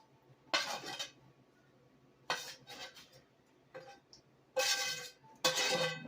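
Seared sausages drop into a pot one after another, each landing with a sharp clink and clatter of metal, in four distinct bursts separated by short pauses, close and fairly loud.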